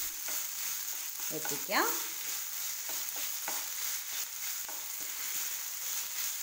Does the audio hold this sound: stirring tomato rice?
yes